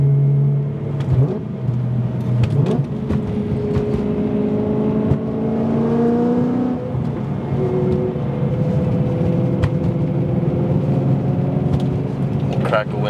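A BMW E92 M3 engine hums steadily while driving, its pitch rising and falling through gear changes as a voice talks over it.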